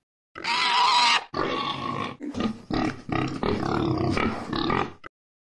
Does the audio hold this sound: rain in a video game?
no